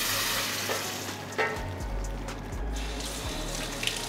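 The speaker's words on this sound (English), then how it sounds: "We're going to tip this over into our beef." Boiling braising liquid is poured over beef, giving a continuous close splashing, rushing and sizzling pour with a few soft knocks and no talk.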